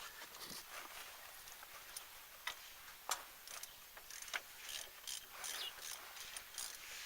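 A wrench ratchets and clicks steadily while loosening the top brake caliper bolt on a 2003 Chevy Cavalier, a close run of sharp metallic ticks with a few louder knocks, soft and without talk.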